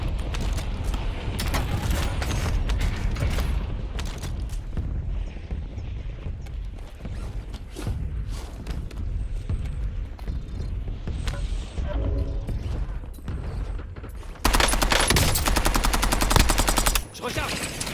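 Gunfire in the Warzone video game, dense rapid bursts of automatic fire and clattering impacts running continuously, loud and close, growing heavier near the end, with occasional voices.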